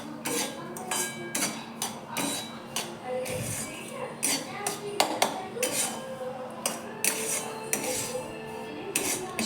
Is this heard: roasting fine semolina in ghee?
yes